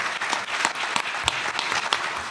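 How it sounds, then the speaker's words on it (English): An audience applauds a discussion panel, a close, lively patter of many clapping hands with a few sharper individual claps standing out, continuous throughout. "Please give them another round of applause."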